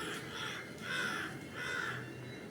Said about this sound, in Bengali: এখানে কাকগুলো তাদের বাসা করবে বলে রেডি হচ্ছে